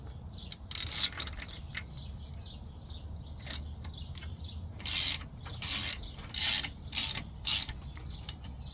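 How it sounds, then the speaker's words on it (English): A ratchet wrench clicks in repeated short bursts while backing off the crank bolt of a Hemi engine, close up with brief pauses between strokes and no talking. "So I'm going to back off the crank bolt, bring out the crank bolt a little bit."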